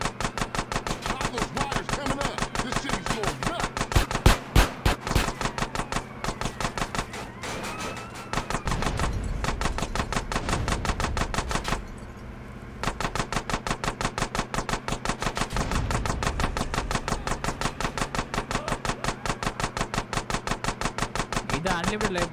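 Rapid, continuous automatic gunfire in GTA San Andreas Definitive Edition during the End of the Line final mission, a dense loud stream of shots with a couple of brief pauses.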